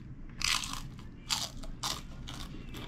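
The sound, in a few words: eating crunchy chicken skin chicharon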